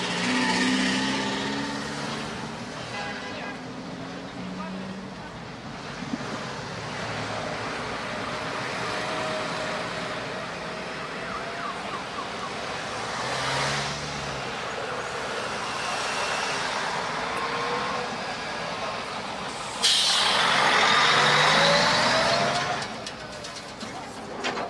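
Cars and trucks pass along a bypass road near Nerubaiske where a blockade was held, a steady wash of traffic with engines swelling and fading, one louder vehicle rushing close near the end, speech faintly present.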